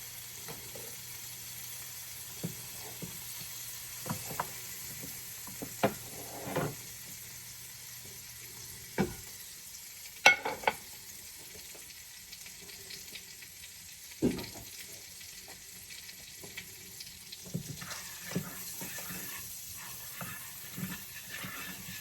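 A couple of tablespoons of butter hiss softly in a hot pan for pepper steak, a faint, steady sizzle broken by occasional light kitchen clicks and knocks.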